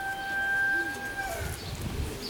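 Pigeons and doves cooing in a backyard pigeon loft, a low soft coo rising near the end alongside other bird noise, with a steady tone running through the first half.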